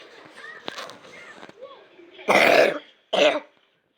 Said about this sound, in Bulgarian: Много гадна кашлица.